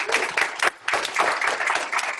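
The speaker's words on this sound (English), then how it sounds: "Give a big applause to Yuri." A room of people applauding, dense steady clapping with a brief dip in the middle before it resumes.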